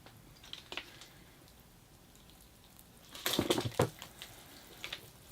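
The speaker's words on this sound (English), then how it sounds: "I'm going to give the tree a watering just to rinse any soap out of the soil." Water splashing onto soil as a hibiscus bonsai is watered to rinse soap out, a soft hiss at first, then a louder gush of pouring and trickling near the end, close by.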